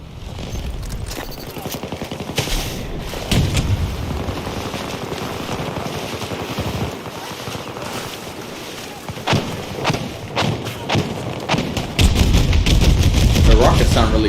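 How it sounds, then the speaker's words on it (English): Battlefield 2042 combat with rocket blasts and gunfire, heavy booming explosions and bursts of automatic fire over a rumbling battlefield, rising to a loud sustained roar near the end, with a player talking at times. "The rockets sound really cool though."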